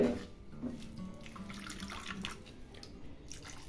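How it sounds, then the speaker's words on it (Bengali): Hot water trickles and splashes into fried semolina in a pan while it is stirred for upma, a continuous close pouring sound with faint low hum beneath. "এবারে গরম জলটা এক হাতে অল্প অল্প করে দিব আর অন্য হাত দিয়ে সুজিটা খুব সুন্দরভাবে মিশিয়ে নিব জলের সাথে"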